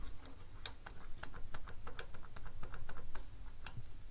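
Torque wrench clicking while tightening a Steinjager double adjustable Panhard bar on a 4th gen Camaro Firebird, a run of sharp light ticks in quick irregular succession, close and faint.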